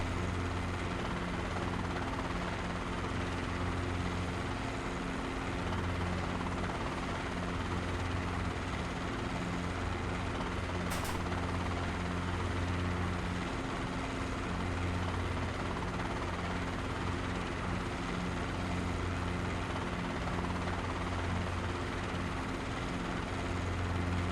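A CH-47 Chinook helicopter in a flight simulator drones with a steady, heavy rotor and turbine hum for the whole stretch, loud and constant without talk.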